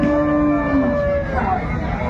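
A Holstein Friesian calf at a cattle market moos loudly and close, one long drawn-out call with a falling tone, over a steady murmur of crowd noise.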